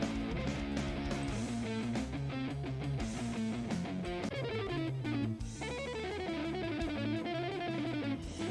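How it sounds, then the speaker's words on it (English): Dense, distorted guitar riffing with fast, busy lines over heavy drums and bass, loud and continuous, from an underground metal album. "Impressive guitar work"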